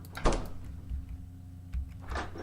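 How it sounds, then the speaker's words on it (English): A door in a video game bandit camp opens and then closes, two separate soft thuds about a second and a half apart, set over a low steady game ambience. "here's the door opening and closing"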